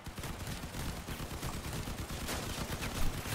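Rapid gunfire from vehicle-mounted weapons in the combat game Crossout, a dense steady barrage of shots filling the clip at moderate level with no talking.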